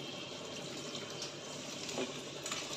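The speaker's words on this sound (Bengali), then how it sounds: "জলটা দিয়ে দিলাম" Water pours into a pan of potatoes being cooked for aloo posto, a steady soft watery rush filling the whole stretch at low level, with a slight splash near the end.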